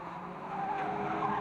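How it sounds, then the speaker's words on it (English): A race car spins out on an oval track, tires skidding in a sustained, rising screech over a steady roar of engines. "we've got a spinner down there, 57, that's Graham Taylor."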